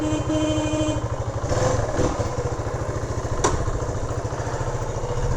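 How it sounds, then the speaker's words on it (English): A 1972 Honda SL100 motorcycle engine idles close by with the choke off, a steady, rapid putter and a brief clatter partway through. "I just turned the choke off and she's idling."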